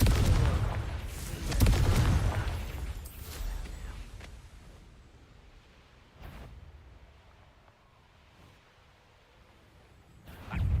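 Confringo explosive spell in Hogwarts Legacy, booming blasts with deep rumbling low end, one strong burst early, then smaller thuds and a final rising boom.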